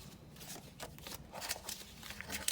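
Paper banknotes taken from cash budget envelopes rustle and flick softly up close, a faint continuous papery shuffling that grows slightly busier toward the end.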